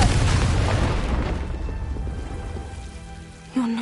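The Confringo blasting spell in Hogwarts Legacy goes off as a broad, rumbling explosion that slowly decays into a crackling debris patter, ending with a brief tonal effect.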